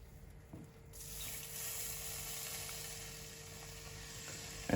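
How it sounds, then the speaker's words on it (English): Water streams into a cooking pot for a wild rabbit potato pie, a steady hissing pour close by that starts abruptly, fills out, and carries on without talk. "Chuck some water in here."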